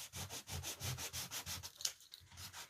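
A sanding sponge rubs the edge of scrapbook paper glued over foam core board, a quiet steady rhythm of soft scratchy back-and-forth strokes, close and repeated about a dozen times.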